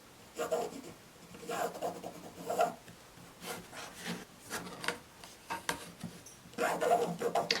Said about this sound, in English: I am marking this on the wrong side of the fabric